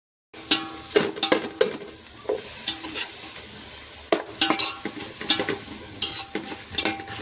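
Tomato pieces frying and being stirred in a pan for Telangana-style chicken biryani, with a steady close sizzle broken by repeated spatula scrapes and metal clinks.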